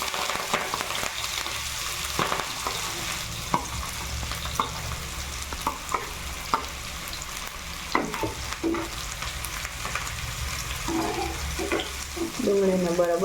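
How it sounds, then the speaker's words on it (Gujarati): Onion added to hot oil for Veg Hakka Noodles, giving a steady close sizzle and crackle with scattered stirring clinks and scrapes. "હવે આપણે એમાં ડુંગળી ઉમેરીશું।"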